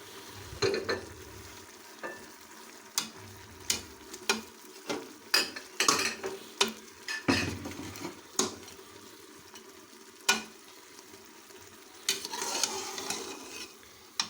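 Spoon scraping and stirring chopped carrots through rice in a pot for sweet jaggery rice, with a quiet sizzle beneath and repeated sharp scrapes and knocks against the metal at an uneven rhythm, close by with no voices.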